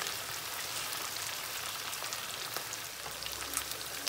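Chicken pieces frying in a pan for a forester-style dish, giving a steady, close hiss of oil crackle that stays even throughout with no voices.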